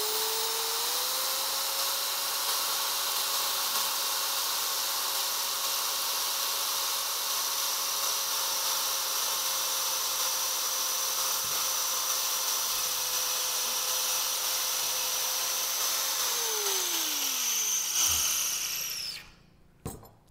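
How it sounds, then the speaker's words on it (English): A power drill boring an 8mm hole through building insulation for an insulation dowel runs steadily and close for about eighteen seconds, then winds down and stops. "An 8mm hole is drilled through the insulation."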